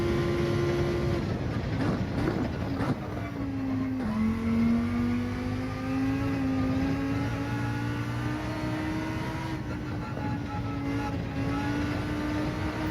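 A race car engine in a racing video game holds a steady high drone through a lap, pitch dipping and climbing with gear changes and throttle, continuous and close with no talk.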